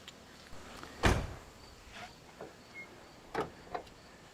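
A mechanical latch clunk as a 1969 Lincoln Mark III or 1972 Lincoln Mark IV trunk lid swings open, with a few softer knocks and clicks afterward in a quiet space.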